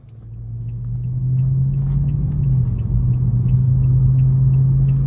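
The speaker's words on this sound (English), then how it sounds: "take this 2017 Toyota Corolla SE out on the road for a quick test drive" A 2017 Toyota Corolla SE at around 100K miles driving on the road, heard from inside as a steady low engine and road drone that swells in the first second, then holds even and moderately loud.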